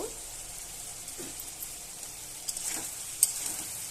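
Fish curry with okra and potato frying in a pan as it is stirred, giving a quiet continuous sizzle with a few soft scraping knocks near the end.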